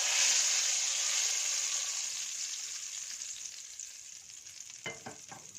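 A dal tadka hitting hot oil sets off a loud, hissing sizzle that slowly fades. A few sharp clatters come near the end, and no one speaks.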